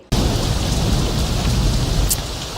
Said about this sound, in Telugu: ఏమిటో ఈ వర్షం